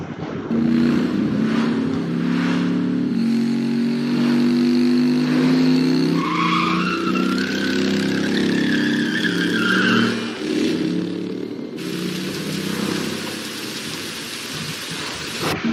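Cars rumble and whoosh past continuously, with rising high-pitched tire screeches midway and a hissing wash like rain toward the end; no talking.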